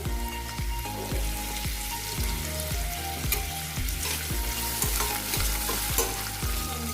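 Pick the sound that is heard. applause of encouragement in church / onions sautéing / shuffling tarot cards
onions sautéing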